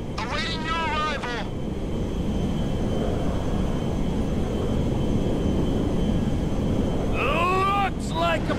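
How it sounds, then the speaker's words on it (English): A big jet in Grand Theft Auto V flies low, giving a steady, loud broadband roar with wind-like rush throughout. Voices talk briefly at the start and near the end over the engine noise. "It's kind of reckless flying that big plane so low"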